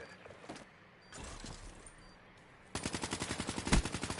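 Gunfire in a shooter video game: scattered shots and muffled game noise, then a rapid burst of automatic fire with evenly spaced cracks near the end.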